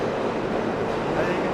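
A New York City subway R train arrives at a station: a moderate, steady rumbling roar of the train fills the brief moment, slightly distant, with a faint rising squeal toward the end.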